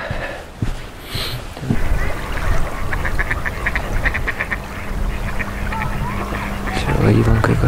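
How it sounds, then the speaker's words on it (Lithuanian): Ducks quack in a run of repeated calls along a lakeshore near Kaunas, fairly close, with water birds splashing, a low hum and rustling footsteps underneath. "O ten už jų dar kažkokie, bet ten antys."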